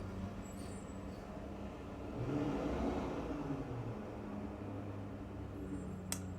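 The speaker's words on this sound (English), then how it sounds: "Garbage truck." A garbage truck's engine rumbles close by with a steady low drone that swells around the middle of the clip, then a short sharp hiss near the end.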